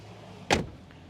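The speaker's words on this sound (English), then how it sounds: "Let's open the back doors" A single sharp clunk of a car's rear door being opened or unlatched, brief and close, against quiet background.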